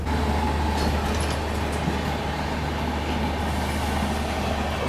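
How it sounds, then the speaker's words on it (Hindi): Inside a late-running New Delhi to Patna special train at night, another train crosses alongside, producing a continuous heavy rumble and rattle of wheels and carriages, loud and steady throughout, with no talking. "सामने से एक और किसी ट्रेन के साथ क्रॉसिंग हो रही है अभी"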